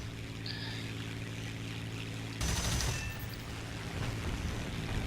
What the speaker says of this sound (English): Throw some machine gun rounds at him.